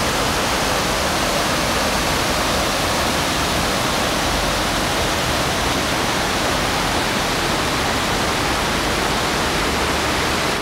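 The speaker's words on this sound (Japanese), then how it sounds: "この川の流れる音が癒されまして" A clear, fast-flowing river runs through a Kyushu hot spring village in the Kurokawa Onsen area of Oguni. Its steady, loud rushing hiss stays unbroken and close throughout, with no voices.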